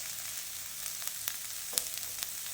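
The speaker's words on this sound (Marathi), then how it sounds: "तेलामध्ये टॉस करून घ्यायच्या थोड्याशा परतून घ्यायच्या" Long-cut carrots are tossed in hot oil while making Schezwan noodles, a steady soft sizzle with a few faint scrapes and stirring knocks, close up and without talking.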